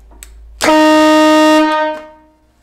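A cheap handheld air horn gives one loud, sustained, blaring blast lasting over a second, close by and alone before it fades out.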